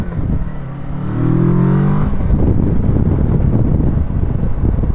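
A 2019 Kawasaki Versys 650 LT motorcycle engine rises in pitch as the throttle opens, then gives way to steady riding rumble and heavy wind buffeting on the microphone.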